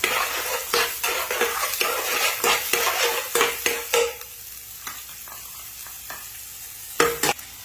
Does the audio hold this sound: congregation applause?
no